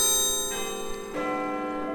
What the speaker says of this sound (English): he finally heard a bell ringing in the distance